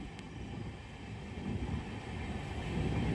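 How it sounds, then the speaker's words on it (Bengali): Train passing Dalgaon station among tea gardens, a steady low rumble heard from inside the carriage, slowly growing louder, no talk. "এই যে দলগাঁও স্টেশনের পাশ দিয়ে যাচ্ছে আমাদের ট্রেন।"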